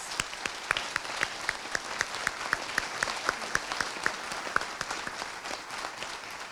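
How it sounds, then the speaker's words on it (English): An audience claps for the candidates at the close of a candidates' forum, a steady round of applause with a few sharp, distinct claps standing out near the front. "Let's give all the candidates a nice round of applause."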